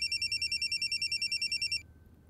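A telephone rings in a rapid, regular electronic trill of evenly pulsed bursts, clear and close in a quiet home, then cuts off abruptly as it is answered.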